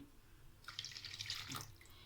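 A short splash of lukewarm water being poured into naan dough ingredients, starting about halfway in and trailing off, with no one speaking.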